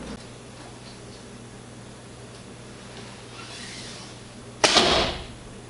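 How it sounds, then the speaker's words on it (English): An arrow drawn across the bare wooden shelf of a Kaya Khan bow, a soft scraping rustle building up and ending in a sharp, loud rasp near the end. "you can hear the arrow across this wooden shelf."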